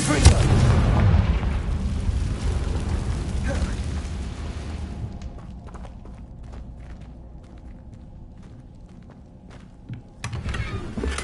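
A Confringo fire spell from the video game Hogwarts Legacy erupts in a loud, rumbling blast at the start, fading into a quieter stretch of faint clicks and footsteps before another burst near the end.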